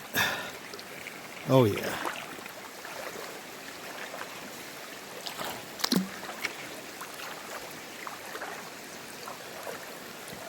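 Someone wades knee-deep across a cold stream. The water sloshes and splashes in a few louder bursts over a soft running-water background, and someone speaks briefly.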